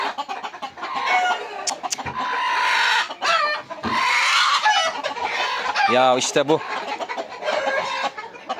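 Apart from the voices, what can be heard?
roosters clucking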